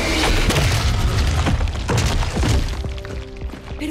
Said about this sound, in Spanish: Ahorita explota.